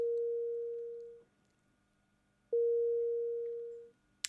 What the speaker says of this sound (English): The first two generate sine waves, and the third one generates filtered noise.